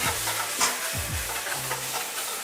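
Spätzle fry in butter in a pan with a dense, steady sizzle, punctuated by a few scraping stirs of a utensil, close and continuous throughout.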